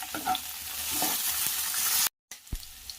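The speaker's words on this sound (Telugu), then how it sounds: "ఇవన్నీ పచ్చిమిర్చి ఇందులోకి వేసుకోవాలి వేసుకొని ఫ్రై చేసుకోవాలి" Sliced green chillies, onions and curry leaves fry in a pan of oil for poha upma, a close, loud crackling sizzle with stirring, cut by a brief silence, then a sharp clink and quieter frying.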